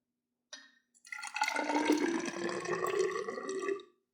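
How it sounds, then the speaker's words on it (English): Water poured into a measuring cylinder: a brief splash, then a steady filling stream for about three seconds with rising pitch, close and fairly quiet. "this is a measuring cylinder and we use this to measure volumes of water. Basically, you just pour a liquid in there"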